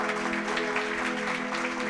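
An audience at a Christian sermon claps together in a steady, moderately loud wash of applause, with a droning musical tone underneath.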